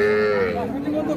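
A cow at a cattle market gives a short, low moo that bends downward in pitch, close and fairly loud over a busy, noisy market background.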